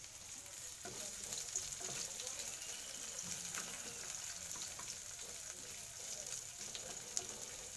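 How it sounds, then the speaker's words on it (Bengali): Onions frying in hot oil for a Bengali katla fish kalia, giving a steady, faint, continuous sizzle with occasional crackles and a stir, no talking. "তো পেঁয়াজগুলো ভাজা হতে থাকুক"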